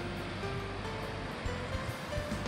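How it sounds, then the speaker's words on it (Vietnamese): Ocean waves crash on the shore of Côn Đảo island in Vietnam, a continuous rushing wash of surf at moderate level, with no talk. "Sóng đánh"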